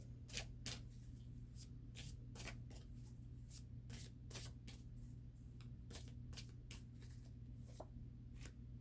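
Tarot cards being shuffled by hand in a steady run of crisp, riffling bursts, each a short papery flutter repeated many times, close up over a faint constant low hum, with no talking.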